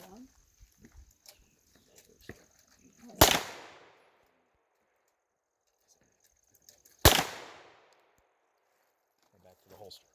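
Two sharp, loud handgun shots ring out about four seconds apart at an outdoor shooting range, each with a short decaying echo, between quiet stretches and faint rustling.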